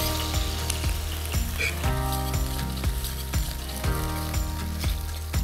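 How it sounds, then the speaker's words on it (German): Cherry tomatoes fry in fat in a pan, giving a loud, steady sizzle, with rhythmic scraping and clinking as they are turned and stirred, and no voices. "gewendet im Fett drinnen, dass sie gleichmäßig ein bisschen anbraten können"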